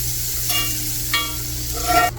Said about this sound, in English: I'm just gonna add a little bit of butter onto the cast iron skillet.